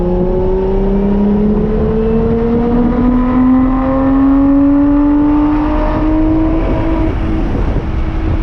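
A Lotus sports car accelerates on a race track, its engine note climbing steadily in pitch as it revs up, loud and close from inside the car with no talking.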